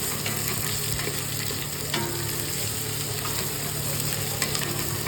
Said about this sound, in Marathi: चांगलं मस्त याला फ्राय करू. थोडासा लालसर करूया.